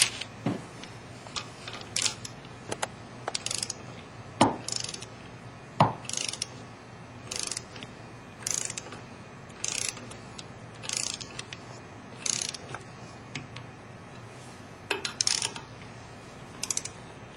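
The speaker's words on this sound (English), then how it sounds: "we're now going to torque it. We're going to start with 25 inch-pounds, and we're going to follow the torque pattern" Nuts on an OPTISEP 800 holder's plates being torqued at 25 inch-pounds in a crisscross pattern give a run of sharp, closely miked metallic clicks and ratchets, spaced out at irregular intervals with short quiet gaps between them.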